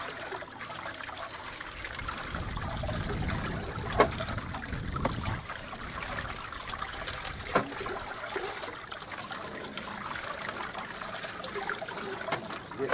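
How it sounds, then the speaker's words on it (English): Water trickles and splashes continuously through a gold cradle rocker box in an Arizona gold field, a steady close wash of liquid broken by a couple of sharp knocks as the box works. "Make sure you're getting that water going down through there, using that rock in action"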